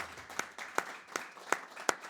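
A small audience claps after a song, a thin, sparse patter of hands with a few sharper claps standing out, fairly quiet and brief.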